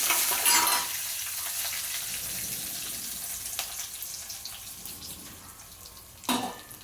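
Semolina (rava) is lightly roasted in a pan, a gentle dry sizzling hiss with scraping stirs, slightly louder at the start and at a brisk stir near the end.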